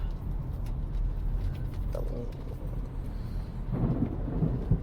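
Thunder while driving into a storm: a low, continuous rumble rolling beneath steady road and cabin noise, swelling louder toward the end, with no talking.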